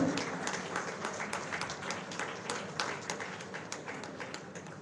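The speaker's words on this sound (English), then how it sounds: "A huge round of applause for Ravikant Reddy Garu" An audience applauding a guest at a college convocation ceremony, a steady wash of clapping that holds for the whole stretch, at a moderate distance.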